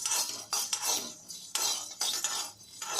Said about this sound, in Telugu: ఒక స్పూన్ ధనియాలు ఒక చిటికెడు మెంతులు ఒక చిటికెడు ఆవాలు వేసి అన్నీ బాగా వేపాలండి